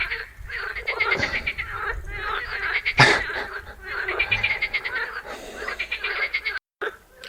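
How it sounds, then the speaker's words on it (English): Frogs croak and trill in a chorus nearby, with overlapping rhythmic calls, a sharp louder burst in the middle and a brief gap near the end. "I was waiting for the frogs to finish their singing"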